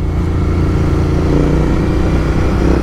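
A stock-engined Royal Enfield Interceptor 650 Tracker motorcycle with a modified ECU hums and pulls steadily, a loud, close, unbroken exhaust note holding throughout without any voices over it.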